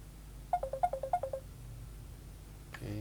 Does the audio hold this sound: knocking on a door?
no